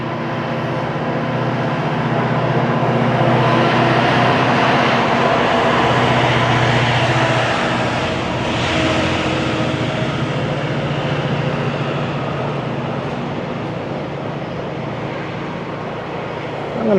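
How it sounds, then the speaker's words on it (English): A GO commuter train rolls past below a pedestrian bridge with a downtown skyline view, a steady broad rumble and rush that holds loud for the whole stretch and eases slightly near the end. "here comes the GO train"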